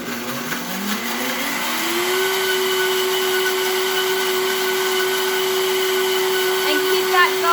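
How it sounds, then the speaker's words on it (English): A Vitamix blender spinning up to its highest speed, its motor pitch rising over the first two seconds and then holding a loud, steady high whine for the remainder, with no one speaking. "I'm going to give it a spin in my Vitamix at the highest speed possible"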